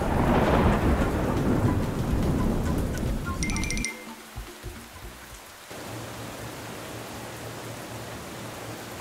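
Heavy rain roars with rumbling thunder, then the downpour briefly drops away before steady rain resumes at a softer level.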